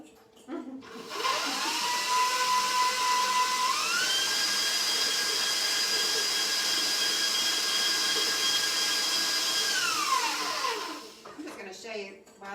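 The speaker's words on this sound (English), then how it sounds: "I'm going to put this mixer on, which means, no talking for a minute." An electric mixer whisking eggs for batter whines loudly and steadily for about ten seconds, its pitch rising as it speeds up, then winding down to a stop.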